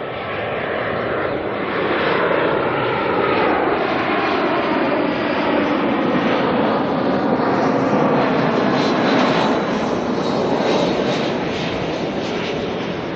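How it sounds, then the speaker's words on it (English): An Air New Zealand A320 jet arriving from Wellington at Auckland Airport roars steadily overhead, a loud sustained engine rumble and whine that swells slightly and holds throughout without speech. "next arrival coming in, A320 from Wellington. NZ436"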